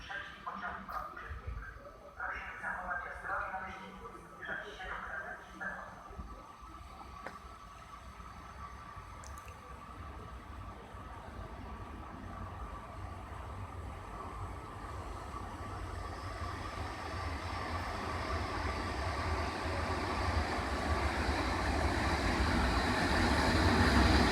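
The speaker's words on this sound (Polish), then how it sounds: "Wjeżdża pociąg, telka po górze, relacji Przemyśl Główny Berlin-Charlottenburg." A passenger train on the Przemyśl Główny to Berlin-Charlottenburg route rumbles past at Tarnów, its low rolling noise building steadily louder through the clip with some indistinct voices early on.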